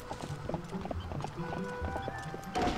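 Horse hooves clip-clop in a steady trotting rhythm in a video game, with background music and game effects and a brief whinny-like burst near the end.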